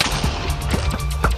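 Rapid gunshots in a Minecraft minigame on MCC Island, a quick run of sharp repeated shots with short gaps, fairly loud and close, with no talking.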